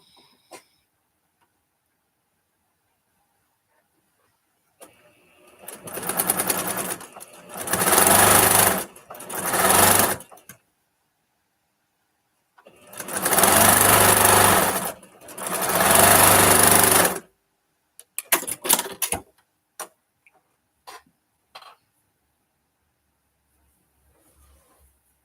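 A sewing machine stitches a quilt block seam in several loud, steady whirring runs of a second or more each, separated by silent gaps, with a few short stuttering bursts and clicks near the end.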